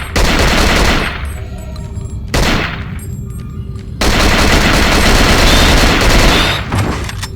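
Bursts of rapid gunfire from the video game Cold Fear come in loud, close volleys, with sustained automatic fire broken by short pauses.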